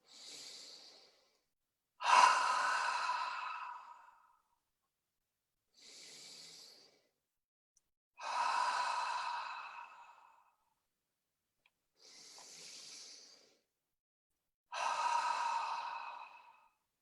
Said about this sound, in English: we take 3 deep in and out breaths like this